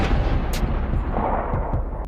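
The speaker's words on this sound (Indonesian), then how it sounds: "Jane kemudian menembak kepala Bishop" A gunshot from the western film Jane Got a Gun, heard as a heavy, booming report with a rumbling tail, followed by a couple of fainter sharp cracks, loud and close with no speech.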